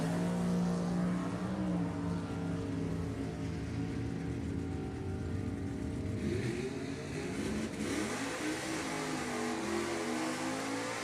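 A Snyder Performance Team drag racing car at the Pacific National Open, an engine revving and rising in pitch as it accelerates, loud, then fading toward the end.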